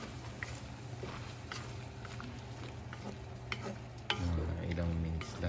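Squid fries in a pan for a salted egg and snow pea dish, a steady close sizzle with scattered scraping and stirring clicks, growing a little louder and busier near the end, with no voices.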